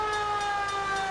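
A steady, loud emergency siren sounds from a fire truck in the video game L.A. Noire, its sustained harmonic tones unbroken across the short stretch.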